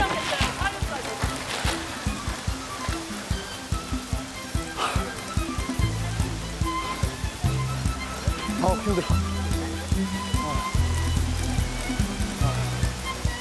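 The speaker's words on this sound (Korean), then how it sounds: "이게 소나기구나" A sudden rain shower pelts down at a flea market with irregular splashes and drips close by, while a person speaks briefly and shuffles around beneath it.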